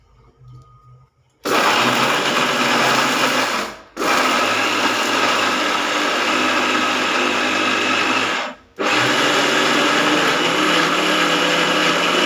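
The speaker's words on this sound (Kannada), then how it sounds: "ಈಗ ಮಿಕ್ಸರಿಗೆ ಹಾಕೋತೇನೆ ಒಂದು ನಿಮಿಷ." A mixer grinder loaded with oil, lemon juice, salt and chili runs loud and close in three long whirring bursts, with brief pauses between them and a quiet moment before it starts.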